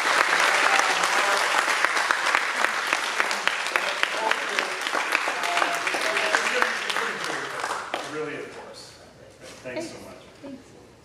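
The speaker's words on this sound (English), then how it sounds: "A round of applause for Samantha and Courtney." Dense audience applause at a Norman Education Research Day awards ceremony, steady and loud for about eight seconds before thinning into scattered claps and murmuring voices.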